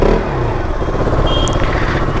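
A loud, rumbling KTM motorcycle engine idles or rolls steadily close by, with a dense low throb throughout.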